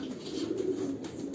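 Pigeon cooing softly, a low, faint rolling coo repeated over a brief moment with a quiet background.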